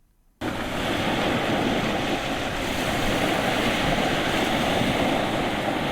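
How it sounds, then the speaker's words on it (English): Ocean waves lap steadily at the shore at Waitangi, a continuous close wash of surf with some wind noise on the microphone, starting abruptly after a brief silence and holding at an even level throughout. "The ocean continues to lap at the shores of Waitangi"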